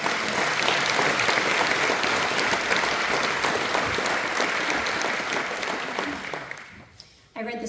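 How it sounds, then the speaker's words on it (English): Dense, sustained applause from an audience at a patriotic community evening event for a departing performer, loud and steady, then tapering off near the end. "He's leaving, so yeah, give him a round of applause."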